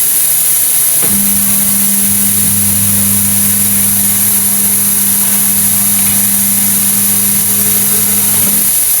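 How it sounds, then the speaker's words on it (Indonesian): A tire changer machine's turntable rotates under its motor, which starts with a click and drones as a steady, loud hum for several seconds before stopping, over constant background hiss. "Selanjutnya kita akan menekan pedal yang memutarkan mesin baknya ke arah kiri."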